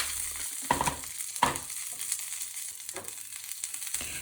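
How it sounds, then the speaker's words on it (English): Cumin powder, paprika powder and chili flakes sizzle steadily in a hot pan over medium-low heat, with a soft continuous frying hiss and a few light stirring scrapes close by. "mix them on hot pan at medium-low heat until you can smell the cooked aromatic spices"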